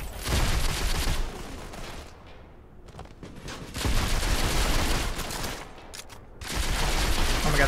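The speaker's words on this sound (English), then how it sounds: "Where am I getting shot from?" Gunfire rattles through a Modern Combat 5 multiplayer match in repeated rapid bursts, loud volleys easing briefly before starting again.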